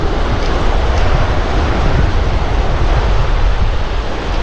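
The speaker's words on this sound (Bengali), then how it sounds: "শুধু এখানে সমুদ্রের জলের আওয়াজ আর হাওয়ার শব্দ ছাড়া আর কিছুই নেই" Steady, loud roar of sea waves and wind noise on an empty, quiet beach on Mousuni island, continuous broadband wash with no voices.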